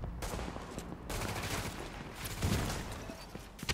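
Video game gunfire in a loud battle mix, with rapid shots and bursts crackling almost continuously for a few seconds at close range.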